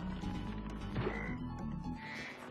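A frog in the Spyro 3 video game croaks in a rough, ratcheting rattle that runs for a couple of seconds over busy game music and ambience, fairly loud.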